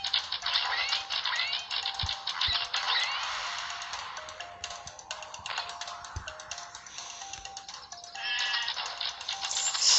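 Sheep in the tower-defense game Goblin Defenders bleat repeatedly amid busy clicking and electronic effects, a cluttered stream of small sounds without speech.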